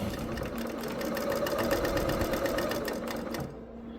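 A serger runs a cover stitch through quilt fabric, a steady close mechanical whir with rapid rhythmic needle ticking that slows and quiets near the end.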